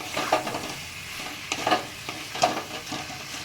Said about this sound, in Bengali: ভাজা মশলাটা দিয়ে আমি এবার মিক্সড করে দিচ্ছি